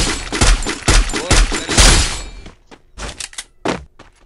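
Bursts of gunfire from the mobile battle-royale game Free Fire, a rapid string of loud close shots with thuds in the first half, then sparser, scattered single reports.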